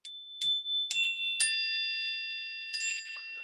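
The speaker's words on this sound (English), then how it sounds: "It's actually chimes." Meditation chimes rung to close a session: a few light metallic strikes ring out in quick succession, then blend into a sustained, shimmering tone that slowly fades, clear and alone.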